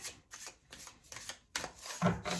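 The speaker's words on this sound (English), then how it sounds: "You just give a little shuffle here." Tarot cards being shuffled in several quick riffling bursts, close and fairly quiet, ending with a louder flurry.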